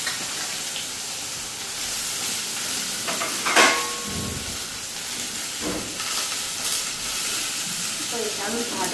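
Stuffed green chillies frying in a pan in a home kitchen, a steady sizzling hiss running throughout with a few brief stirring clatters partway through.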